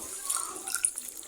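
Water is poured into a cooking pot on a home kitchen stove. A brief, fairly faint splash and trickle lasts about a second.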